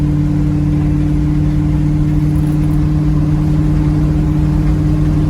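Steady, loud engine drone of an old Chevy car with a deep rumble and hum, running continuously as the vehicle drives, no voices.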